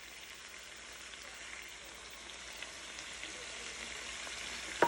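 Dal simmers and sizzles steadily in a pan while Hyderabadi chicken masala is being cooked, producing a faint, even crackle with a few small pops and no talking.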